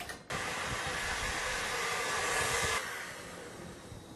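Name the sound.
electric mixer whisking whole eggs and sugar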